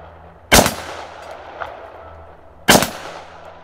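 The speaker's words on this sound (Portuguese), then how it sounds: "E começou a dar vários tiros em direção da criatura." Two sharp gunshot effects ring out about two seconds apart, loud and abrupt, each trailing off briefly, aimed at a werewolf in a dramatized tale.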